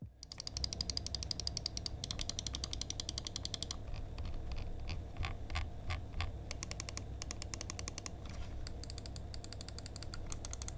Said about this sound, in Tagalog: Yung scroll wheel, sobrang tactile and satisfying, medyo maingay lang pero hindi naman nakakairita.